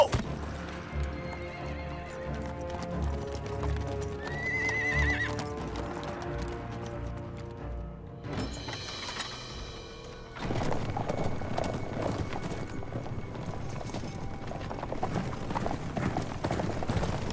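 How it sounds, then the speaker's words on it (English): A horse in a Chinese historical drama, close and loud, with a clear neigh and a rush of hoofbeats and movement. A burst of action noise follows over the sound of the horse, with no speech. "A horse!"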